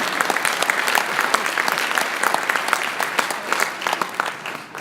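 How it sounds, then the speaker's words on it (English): An audience at a general session breaks into loud, sustained applause, dense clapping that holds steady for the whole stretch with no voices over it. "you may applaud."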